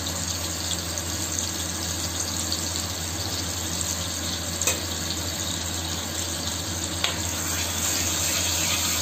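Butter melting in a couple of spoons of oil in a kadhai over a gas flame, giving a steady, even sizzle and hiss throughout with a couple of faint clicks, no voices.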